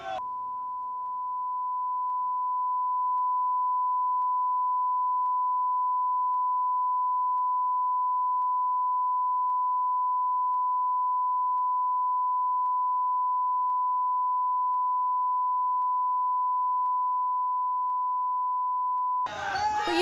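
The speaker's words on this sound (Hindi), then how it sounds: "तो ये जो बीप की आवाज आप सुन रहे हैं वो इसीलिए है क्योंकि कुछ ऐसे नारे हैं जो नहीं जाने चाहिए" A steady, unbroken censor beep holds for nearly twenty seconds over chanted slogans in a news report, with brief bursts of crowd noise just before it starts and right after it stops.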